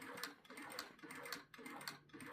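A Sunstar KM-2350A sewing machine stitching at a short stitch length, a steady rhythmic mechanical ticking and whirring, close and fairly soft.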